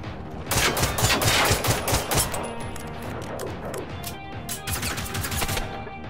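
Hostile robots in Generation Zero fire rapid bursts of gunfire, with dense, close, loud volleys of shots rattling in quick succession and no talking.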